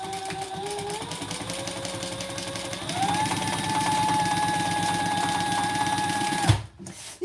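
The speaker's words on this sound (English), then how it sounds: "And sew down those 2 lines." A sewing machine stitches two lines of fabric, its steady motor whirring close by and stepping up in speed twice before cutting off near the end.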